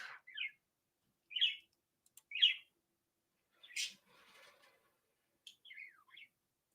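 Pet birds in a quiet home give scattered short chirps and tweets, spaced apart with silent gaps, fairly faint and close, with one brief rustling burst midway.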